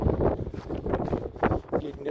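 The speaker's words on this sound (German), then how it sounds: "Ein schöner Wind" Outdoor wind among allotment gardens, buffeting the microphone in uneven rumbling gusts that swell and fade close-up, with no voices.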